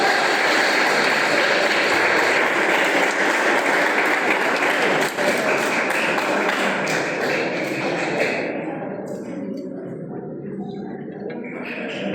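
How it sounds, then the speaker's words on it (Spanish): A congregation applauds the couple at the close of a wedding mass in Ameyaltepec, with dense, steady clapping that fills the space and tapers off toward the end. "Aplauso fuerte para la pareja, felicidades."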